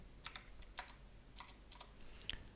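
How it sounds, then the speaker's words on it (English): Typing on a computer keyboard sounds as a handful of sparse, crisp key clicks spread over a couple of seconds, quiet and close, with no voices. "And we're typing it in backwards again."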